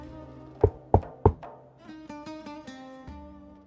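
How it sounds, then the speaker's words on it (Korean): Three quick, loud knocks on a door, evenly spaced, followed by soft musical tones ringing out. "어느 날 신랑은 조용히 신부의 집 문을 두드렸지요."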